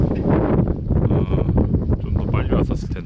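Gusty wind blows across a microphone outdoors by the coast, producing a constant close rumble with surging peaks while someone talks through it.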